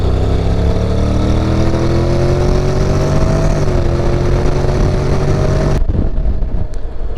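A Honda X-ADV scooter in drive mode accelerates with a steady, loud engine note that rises in pitch, then cuts off sharply near the end, leaving only faint background noise.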